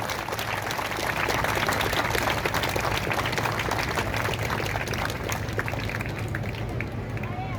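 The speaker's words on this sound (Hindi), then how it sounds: "तो आप सबके सम्मान में जोरदार ताली होनी चाहिए आप सबकी तरफ से।" Sustained loud applause from an audience at a Hindi gathering, dense continuous clapping that stays strong throughout with a murmur of voices underneath.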